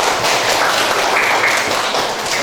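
Dense, continuous clapping from a crowd at a high school teaching performance test, loud and sustained for a few seconds without a break.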